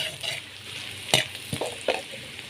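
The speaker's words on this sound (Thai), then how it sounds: "ทีนี้เราก็นำต้นหอมกระเทียมพริกลงทอดให้หอมเลยค่ะ" Green onion, garlic and chili frying in hot oil, with a steady soft sizzle and a few sharp stirring scrapes standing out at close range.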